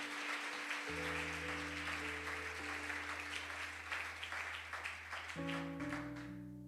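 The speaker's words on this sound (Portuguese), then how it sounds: "Aplauda, porque é o nome do Senhor que é glorificado" Congregation clapping during a church service, a steady crowd patter under sustained organ or keyboard chords that shift in pitch, moderately loud and continuous.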